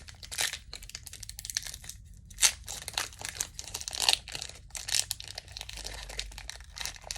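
Pokémon trading card booster pack from the Astral Radiance set being ripped open by hand, close crinkling foil with sharp tearing bursts and rustling spread over several seconds.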